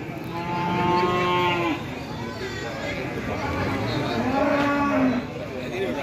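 Large PO cattle at the Prambanan cattle market moo twice in long, loud, close calls, set against a steady hubbub of market chatter and voices.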